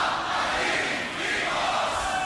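A packed audience at the Grand Beatbox Battle 2021 roars and cheers in a loud, sustained wash of shouting and whooping that barely dips before swelling again.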